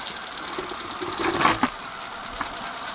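An outboard motor idles steadily at close range, a fairly quiet, even mechanical hum with a brief slight swell partway through.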